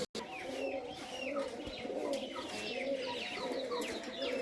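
Pigeons coo steadily in an enclosed loft on a farm, many birds layered together with scattered chirps over a constant murmur.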